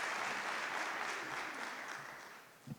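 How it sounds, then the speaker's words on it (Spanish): An audience claps to welcome a doctor to the stage at a talk in Mexico, a soft, even wash of applause that fades slightly toward the end. "Y con un fuerte aplauso, démosle la bienvenida al doctor."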